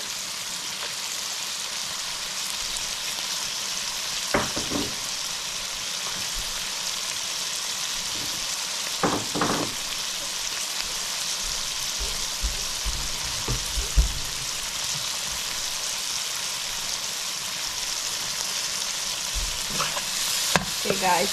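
Shrimp and pumpkin cooking in a pan of oil give a continuous, crackling sizzle, close and fairly loud, punctuated by scattered clicks and scrapes of a stirring utensil, with no one speaking.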